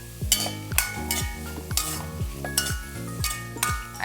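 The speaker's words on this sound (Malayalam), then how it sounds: "എന്നിട്ടൊന്നും ഇളക്കി മൂടാം." Bilimbi thoran, a Malayalam dish, being stirred in a pan, with repeated scraping strokes of a spoon against the metal over a soft sizzle, about eight close, evenly spaced passes.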